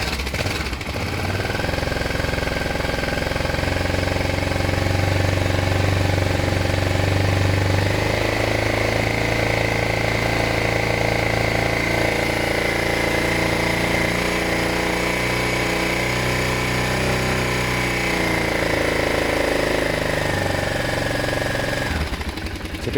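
A BMW F650 motorcycle engine idles steadily while warming up, a close, loud and continuous mechanical rumble with a slight change in pitch partway through and no talk.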